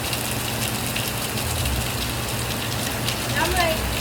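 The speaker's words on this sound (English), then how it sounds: "it's literally just this rain" Steady heavy rain falling, a dense even hiss close by that lasts throughout, with a faint voice briefly in the background.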